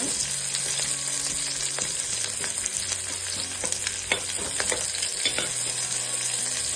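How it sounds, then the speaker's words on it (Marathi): Onion sautéing in a pan for a home-style mutton curry sizzles loudly and continuously, with frequent scraping stirs and clicks from the spoon close by. "परतून घ्यायचा कांदा चांगला गुलाबी झाला झालेला आहे"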